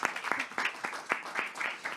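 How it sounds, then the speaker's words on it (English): A short round of applause for panelists at a youth dialogue session, a small group clapping close by in a loose, uneven rhythm over about two seconds. "A round of applause."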